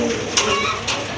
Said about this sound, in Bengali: আরেক জোড়া কবুতর আছে এখানে মাশাআল্লাহ